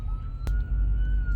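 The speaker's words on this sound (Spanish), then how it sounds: "ahí va la ambulancia" An ambulance siren passes on a street, its steady wailing tone drawn out over a loud low rumble of traffic, with a brief sharp knock partway through.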